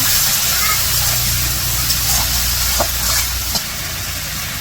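Spices fry in oil in a wok in a village kitchen, giving a continuous close sizzle with faint scraping and a few small clinks.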